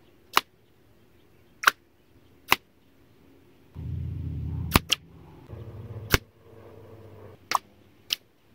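Air rifle shots of .22 caliber JSB 15.9 grain pellets fired at 50 yards, Beeman Chief or Diana Stormrider G2, ringing out as six sharp separate cracks at uneven intervals, with a short low rumble of background noise between them.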